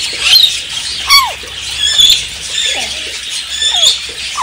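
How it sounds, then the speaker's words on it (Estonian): Parrots squawk repeatedly in a bird enclosure, a run of sharp, loud calls about every second over chirping and faint background chatter. "Parrots squawk, their colors bright"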